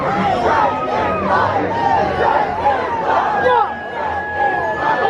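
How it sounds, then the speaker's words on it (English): A massive crowd packs the area outside the Shrek 4-D attraction on its closing night, with dense, steady crowd noise, overlapping chatter and scattered shouts and cheers close by throughout. "Just a massive crowd of people in front of Shrek."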